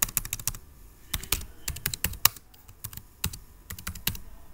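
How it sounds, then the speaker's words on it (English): Close computer keyboard typing in irregular clusters of crisp key clicks with short pauses between words, no one speaking. "now I will type gray colored message box"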